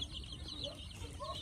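Chickens and a rooster cluck and murmur softly in a poultry yard, a few brief calls rising over steady farmyard background noise, with no talk.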